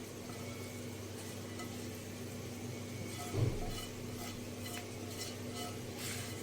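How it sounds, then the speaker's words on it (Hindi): A chicken and potato kabab filling is mixed in a pan, giving soft, faint stirring and light sizzling over a steady low hum, with one brief louder scrape midway and no voices. "और इसको अच्छे से मिक्स कर लेते हैं।"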